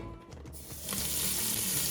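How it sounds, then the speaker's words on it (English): Pork chops seasoned with granulated garlic sizzle steadily in a hot pan, a loud broadband hiss that swells after a brief quieter start and holds constant. "The sizzle that you're hearing is going to sear that meat, get a nice crust on it."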